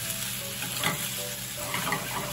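Penne with retort curry sizzles and fries steadily in a frying pan over low heat, a continuous close crackle with occasional stirring scrapes and no voices.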